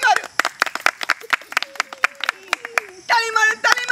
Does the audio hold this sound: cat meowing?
no